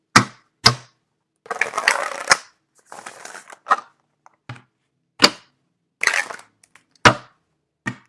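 Tarot cards being shuffled in bursts: separate sharp snaps and riffling clatters, close and fairly loud, with short silent gaps between attempts and no talking.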